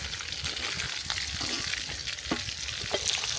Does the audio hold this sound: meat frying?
yes